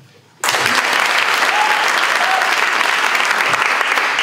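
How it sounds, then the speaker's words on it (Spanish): After a brief quiet moment, an audience at a forum erupts into vigorous, loud clapping that stays dense and energetic to the end, with a few voices barely audible underneath. "ara us demano que aplaudim amb molta energia"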